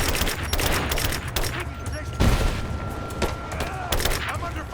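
Gunfire in the video game Rise of the Tomb Raider, a dense stream of rapid shots with a heavy boom about halfway through, with voices shouting over the battle.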